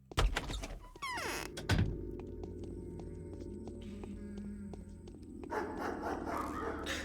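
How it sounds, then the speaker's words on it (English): Loud dog barking plays as an ambient sound in the game Pathologic, with a couple of sharp bark-like bursts and a thunk near the start, then a quieter droning backdrop. "get used to the sound of just random dog barking really loudly, because that's just an ambient sound in this game that plays all the time"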